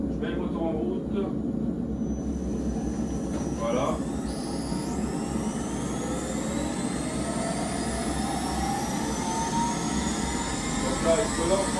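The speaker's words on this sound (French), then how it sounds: "Je mets le moteur en route." The electric motor of a home-built power hammer starts up in a workshop and runs steadily with a continuous loud hum and rising whine, with someone speaking briefly at the start.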